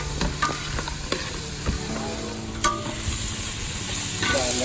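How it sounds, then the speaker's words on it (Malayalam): Ground spice mixture with salt sautéing in a pan for Kozhikode dum biryani, a continuous sizzle broken by scraping, clinking strokes of a stirring spoon at irregular intervals. "അത് ഉപ്പിട്ടിട്ട് ഒന്ന് ഇളക്കി കൊടുക്കുക"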